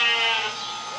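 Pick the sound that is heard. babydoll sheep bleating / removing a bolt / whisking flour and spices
babydoll sheep bleating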